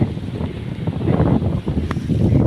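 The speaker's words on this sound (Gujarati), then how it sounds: "પવન આવે છે ડાયરું એવી ડગે છે" Wind sweeping through tree branches in a village, a continuous rushing roar that swells and eases in gusts and stays fairly loud and close.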